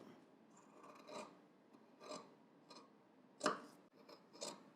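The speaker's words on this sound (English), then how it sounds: "for the lapel tip, we're just going to trim some of that" Scissors make a few quiet, separate snips while trimming the seam allowance at a lapel tip, each cut a brief soft crunch with light rustling between.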